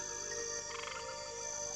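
A small green tree frog croaks in a quiet outdoor setting, giving a faint, steady trilling call with a brief louder pulsed stretch near the middle.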